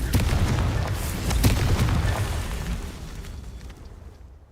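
A Confringo fire-blast spell explodes in Hogwarts Legacy, several heavy booms rolling one into the next over the first two seconds before the roar and crackle slowly die away to quiet.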